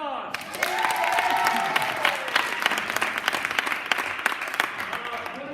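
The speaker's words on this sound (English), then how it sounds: "Let's give it a round of applause" A live improv show audience breaks into dense, steady applause that swells quickly and holds for several seconds, with a few whoops and voices rising above the clapping near the start.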